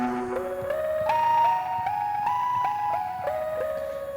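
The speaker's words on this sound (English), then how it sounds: "I chose this Everyday Dog voice sound," A synthesizer patch built from a sampled dog's voice plays a short melodic line of rising and sustained pitched notes, clear and alone without any talking.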